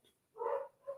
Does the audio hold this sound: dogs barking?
yes